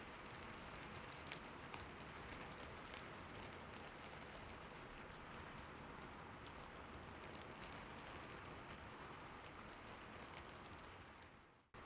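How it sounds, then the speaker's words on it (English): Steady rain, a soft, even hiss of falling drops with faint scattered patters, very quiet and continuous for the whole stretch before cutting off at the end. "Let the rain guide you, slow, like waves on a lake, lapping gently."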